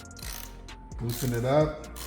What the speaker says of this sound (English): Now you have your 24mm socket and your large ratchet.